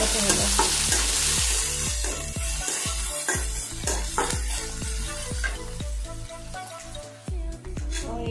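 Crushed ginger and garlic frying in hot oil for an Odisha-style egg dish, a loud dense sizzle with rhythmic scraping stirs throughout, close up and without talking.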